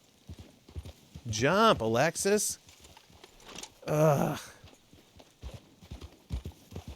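Horse hooves clip-clopping in a video game, a quick run of light clopping beats heard under a nearby talking voice.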